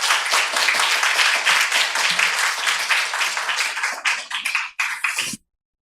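A church congregation at a New Year Friday prayer meeting applauds to welcome a pastor, a dense burst of clapping that thins into scattered claps before stopping abruptly.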